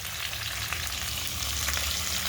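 Fish pieces fry in hot oil, a dense, continuous crackling sizzle with small pops, close and steady throughout, with no voices.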